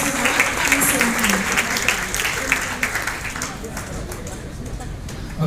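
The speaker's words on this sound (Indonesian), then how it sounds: "Tepuk tangan buat Bapak Pendeta Agus Gunawan." A crowd applauds steadily and loudly throughout, a dense wash of clapping with faint murmuring voices mixed in.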